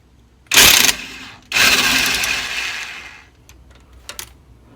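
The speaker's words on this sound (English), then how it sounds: "Take them out with the impact" An impact wrench runs on the axle bracket bolts of a Jeep WJ with a Dana 35 axle, giving two loud close bursts, a short one and then a longer one that fades, followed by faint clicks.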